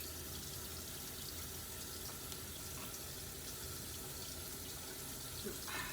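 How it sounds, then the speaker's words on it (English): Water steadily pouring from a container onto garden soil, a continuous close splashing trickle that holds fairly even throughout with no talk. "I will just add a little more water"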